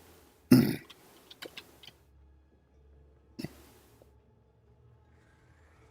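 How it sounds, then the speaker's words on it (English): A man clears his throat in a quiet room, one loud harsh burst followed by a few soft clicks and a second shorter clearing a few seconds later, with long near-silent gaps between. "Can't seem to clear my throat this evening."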